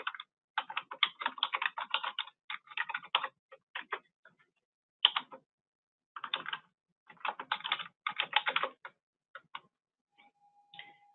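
Keys clatter on a computer keyboard in quick, irregular bursts separated by short pauses. The typing is close and fairly quiet, with no talk.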